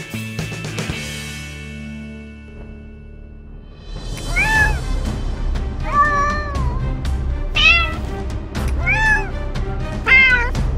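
Several cats meow at a cat convention, loud and close, with repeated rising and falling calls coming in quick succession after a quieter opening with a low background hum.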